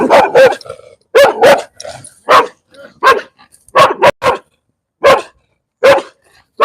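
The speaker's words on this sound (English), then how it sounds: "Look at this dog." A dog barks repeatedly up close at a storage property in 29 Palms, California, loud sharp barks in short bursts separated by brief pauses, some doubled, with no talking.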